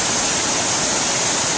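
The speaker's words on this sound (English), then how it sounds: "the water fountain sounds like so loud. Up close at the waterfall." Heard from right beside it, a water fountain waterfall pours as a loud, steady roar of rushing water that fills the whole stretch.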